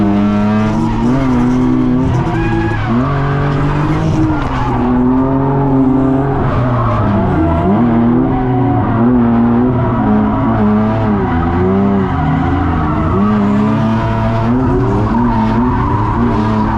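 Continuous loud tire squealing and skidding from a drifting car at a car show, engine roaring steadily underneath throughout.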